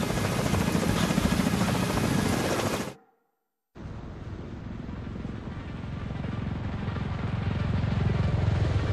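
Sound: extraction helicopter in the video game The Division 2

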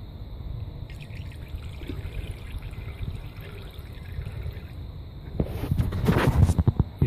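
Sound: liquid being poured in during a free fatty acid test

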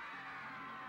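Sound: audience applause and cheering for Betty Palma

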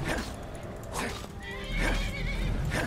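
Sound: horses neighing in the video game Skyrim

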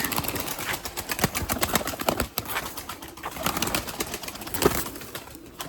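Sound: Erzurum white breeding pigeons

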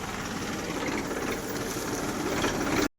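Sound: tractor engine pulling a stuck vehicle in reverse

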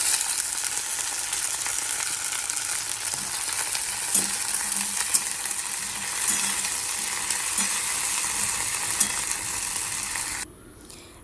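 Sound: okra frying with onions and chillies

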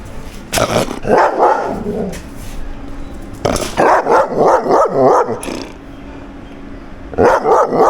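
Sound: dogs barking in cages at a park

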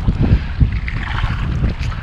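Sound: wind blowing outdoors by the river while fishing

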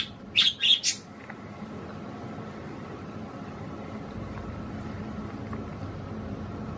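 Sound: young budgie chirping

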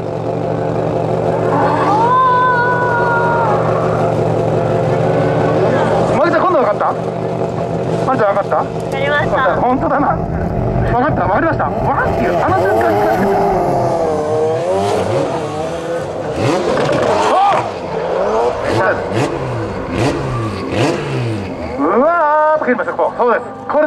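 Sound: drift car engine revving at a drift demo run

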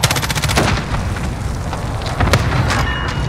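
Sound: airstrike explosions in video game Call of Duty Warzone

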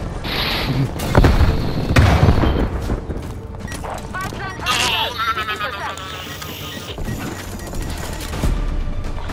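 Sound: frag grenade explosion in video game Call of Duty Black Ops Cold War

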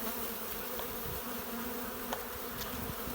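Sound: honey bees buzzing at hive during sugar syrup feeding

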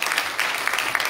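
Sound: applause, hand clapping in church

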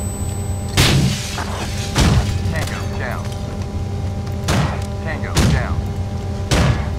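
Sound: flashbang grenade exploding in video game Rainbow Six 3

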